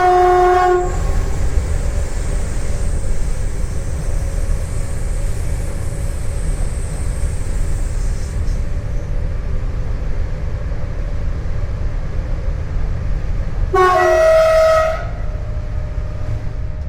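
Steady, loud rumble of a TER regional train running through a 362-metre railway tunnel, heard from the cab, with a sustained horn note at the start and another horn blast near the end.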